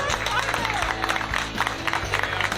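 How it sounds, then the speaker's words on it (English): Audience at a live talk show taping in a bar cheers and applauds, a dense steady wash of claps and crowd noise with voices mixed in throughout. "Give yourself a round of applause."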